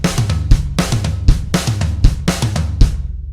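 A rock drum kit plays a rock ending solo pattern twice back to back, fast rolling strokes around snare, rack tom, floor tom and kick in a tight repeating rhythm, loud and alone.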